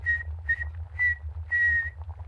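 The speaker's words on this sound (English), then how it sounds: "Hey, I can whistle softly too, you know" Gentle lip whistling in four short, even notes with brief pauses between them, the last held a little longer, clear and close over a low background hum with no one talking.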